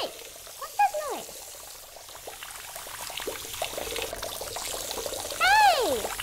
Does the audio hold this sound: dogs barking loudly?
no